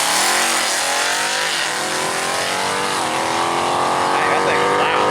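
A Foxbody Mustang race car at a track day revs loudly and close by, its engine pitch climbing and dipping through several gear changes in a continuous roar.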